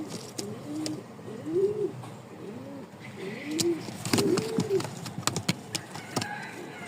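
Pigeons coo repeatedly at a pigeon seller's farm, several birds calling in overlapping soft, rolling phrases close by, with brief clicks and faint background noise between calls.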